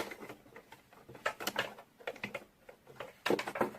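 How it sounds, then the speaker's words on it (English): A sewing machine stitching elastic fabric for a ruched crop top and skirt, starting with a backstitch; close, rapid clattering stitch bursts in short uneven runs with brief pauses, no speech. "We'll stitch this with a zigzag stitch since we are working on an elastic"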